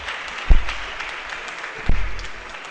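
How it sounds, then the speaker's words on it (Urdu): Audience in a lecture hall breaking into brief applause, two quick bursts of clapping with a low thump, fairly loud and close, settling into a faint murmur between them. "یہ اس بات پہ تالیاں کافی بجی ہیں"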